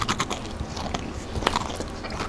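Close crunching bites into hot, air-fried BBQ bacon, with rough, crackly texture, a few sharper snaps amid steady chewing noise, no talking.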